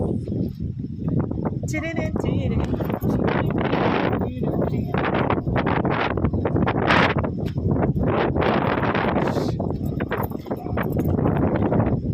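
Steady wind buffets the microphone outdoors, a loud continuous rumbling roar with gusty surges throughout.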